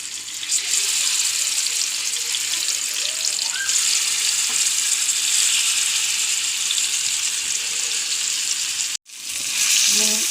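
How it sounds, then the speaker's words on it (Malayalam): Fish sizzles steadily in hot oil in a frying pan for a vegetable-fish lunch, a dense close crackle that runs without a break, with a brief cut to silence near the end before the frying resumes. "എണ്ണ ചൂടായി, വറുക്കിടുന്നു"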